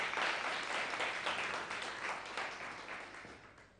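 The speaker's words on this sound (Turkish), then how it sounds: "bir alkış gönderiyorum lütfen" Audience applause at a memorial programme, a dense wash of clapping that starts loud and slowly fades over a few seconds.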